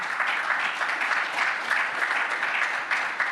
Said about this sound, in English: could you please give a round of applause to our panelists?